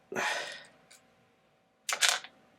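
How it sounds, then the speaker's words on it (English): A metal bolt drops while working on a Traxxas XO1 RC car, giving two short, sharp clattering impacts about two seconds apart, close and fairly quiet. "I dropped the bolt like an idiot right here"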